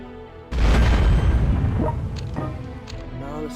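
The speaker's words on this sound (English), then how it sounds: "We're gonna hit with the missile." A missile strike in the strategy game World Conquer lands as a sudden loud, deep boom that rolls on with a rumbling tail, with a bit of voice over the fading end.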